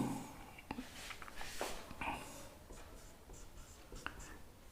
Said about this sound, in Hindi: इसको मैं कहाँ लिखूँ? यहाँ लिखता हूँ।